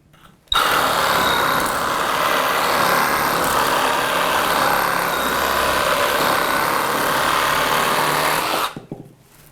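A Milwaukee M12 cordless power tool runs steadily while cutting, a loud high-pitched motor whine holding constant for about eight seconds before winding down.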